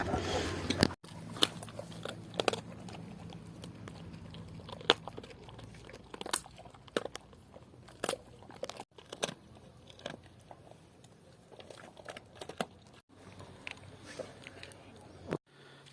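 Close, wet crunching and gnawing as a Caucasian Shepherd dog chews a rib bone, irregular cracks and chewing bursts that come and go, with brief murmurs of voices.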